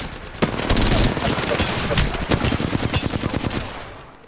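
Loud, close enemy machine-gun fire in a shooter video game, continuous rapid bursts with a sharp initial report, tapering into separate shots before fading out.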